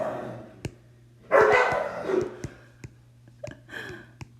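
Several dogs bark in the background of an indoor lecture recording, with sharp intermittent barks and a louder burst of yapping and whining, over a steady low hum.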